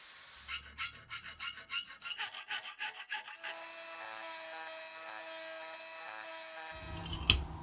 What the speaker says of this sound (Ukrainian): Лобзиком пилкою по металу виріжемо внутрішню частину